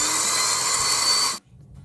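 A steady, harsh whirring drill sound effect from an editing app's sound library runs loud and unbroken, then cuts off abruptly to near silence.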